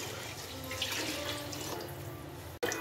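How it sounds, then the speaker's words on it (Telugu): Water poured into a pan of mutton curry for dum biryani, a steady close splashing stream running for nearly three seconds before a brief cutoff and a final splash. "కొంచెం వాటర్ వేసుకుందాము"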